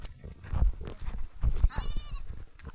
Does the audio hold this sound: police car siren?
no